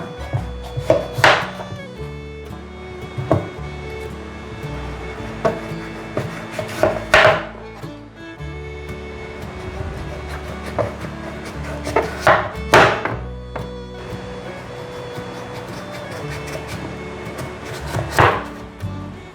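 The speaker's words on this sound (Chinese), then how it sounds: "把南瓜切成粗条状" A knife cuts pumpkin into thick strips on a board, with repeated sharp chopping knocks landing in spaced clusters, close and clear with no talking.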